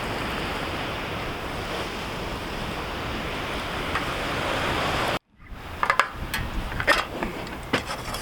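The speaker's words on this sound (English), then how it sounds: "Got some big waves" Big ocean waves roar steadily on a beach with heavy wind, a dense continuous wash that suddenly cuts off, then quieter surf with scattered bumps and handling noises.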